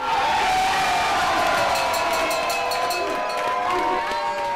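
A packed crowd erupts after a US soccer goal, loud sustained cheering and whooping with scattered clapping, many voices blending into a continuous roar that slowly eases.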